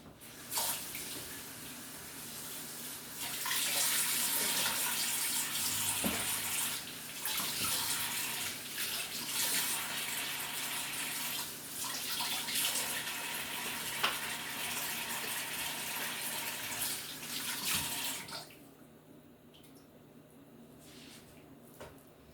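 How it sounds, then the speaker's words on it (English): Food is rinsed under a running kitchen tap, a steady close gush of water with splashing variations for about eighteen seconds before the flow stops, leaving a quiet room. "I'm just going to rinse these off, and then we're going to add it to the pan."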